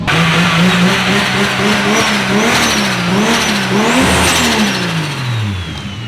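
A Nissan R34 Skyline with a swapped RB30DET engine revving hard, pitch climbing and dropping through repeated throttle blips, loud and close with a raspy, screaming tone.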